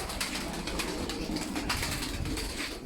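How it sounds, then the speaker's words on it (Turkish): Pigeons cooing in a crowded coop of pet birds, overlapping low throaty coos close by with a constant rustling background of other birds. "Her yer kümes arkadaşlar. Çok iyi kuşlar var"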